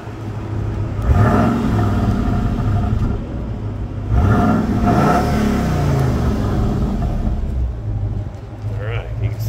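2012 Ford Mustang Boss 302 exhaust revving, with two strong throttle blips rising and falling over a steady low idle rumble, close and loud.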